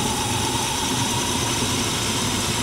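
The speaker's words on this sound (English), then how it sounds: "But as you can see, now it's running rough." A car engine idles roughly with its ignition coil unplugged and cylinders dropped. It gives a steady, loud, close drone with an uneven low rumble and no talking.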